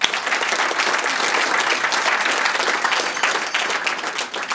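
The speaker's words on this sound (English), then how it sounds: "Let's give her a big round of applause." Sustained audience applause at an awards gala, dense steady clapping from a large crowd filling the whole stretch at even loudness.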